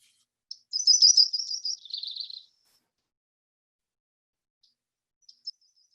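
A yellow-rumped warbler sings a single clear, high, rapid trilling phrase that drops slightly in pitch at the end, followed by silence and a couple of faint short chirps, heard alone and fairly close.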